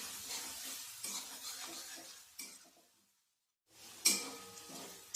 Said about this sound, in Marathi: आता आपल्याला हे छान परतून घ्यायचं आहे।